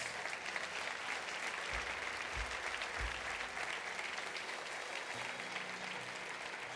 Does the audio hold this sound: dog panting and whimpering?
no